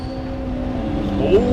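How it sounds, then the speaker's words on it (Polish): In Train Simulator Classic, a freight train arrives from the opposite direction as a steady close rumble with droning tonal hums that swell slightly toward the end. "Z naprzeciwka pociąg towarowy. Słychać jak wjeżdża."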